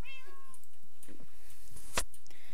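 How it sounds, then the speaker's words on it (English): A video game cat gives a clear meow near the start, followed by a few softer, scattered sounds and a sharp brief noise near the end. No one speaks. "I wonder who's saying meow"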